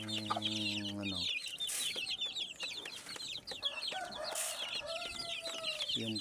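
Backyard pet chickens and a rooster at feeding time, with steady clucking and chattering throughout and a loud rooster crow standing out near the start and again at the end, all close by.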